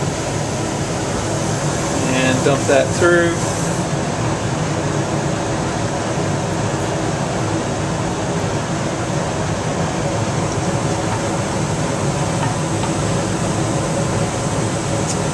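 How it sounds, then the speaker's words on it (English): A laboratory vacuum filtration setup running, giving a steady, even mechanical hum that continues throughout while a person talks over it, with a brief faint clinking of glassware early on. "you flip on the vacuum, and you can hear it start to vacuum there"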